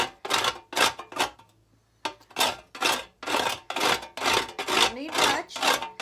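Shavings are scraped off a dried High John root in about ten quick rasping strokes, close and distinct, with a short pause partway through.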